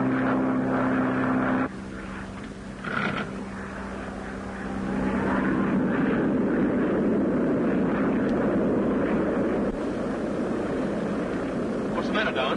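A propeller airplane flying through ice-laden weather in a 1932 film drones loudly and steadily throughout, its engine tone shifting as voices talk over it.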